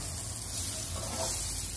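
Idlis fry in a pan with idli podi as a steady, broad sizzling hiss, dense and continuous throughout, with faint stirring movement beneath it.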